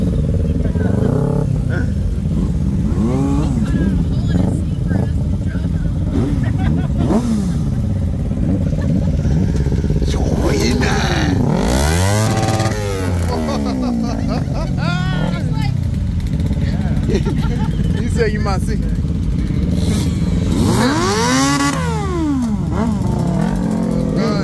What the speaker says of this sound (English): That's a fast bike. It don't look like it is, but it's fast.